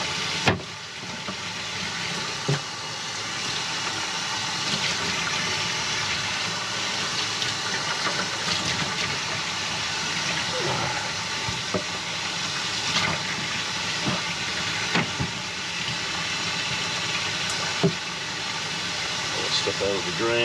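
Tap water pours steadily into a sink in an RV kitchen while items are rinsed, a constant rushing spray that lasts throughout with a few small knocks. Someone talks over it.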